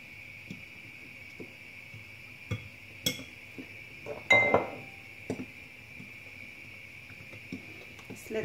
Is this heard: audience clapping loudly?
no